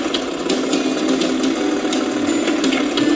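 Tractor engine in Professional Farmer 2014 running hard in sixth gear, a steady dense mechanical drone with rattling harmonics held at constant loudness throughout, close and continuous without talk.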